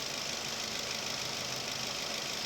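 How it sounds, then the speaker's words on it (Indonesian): A Daihatsu Terios engine idles steadily while its cold air intake is adjusted, a faint, even hum with a slight knocking texture that runs unchanged throughout. "Ini kalau keadaan ditutup, nah, mesinnya lebih drop ya."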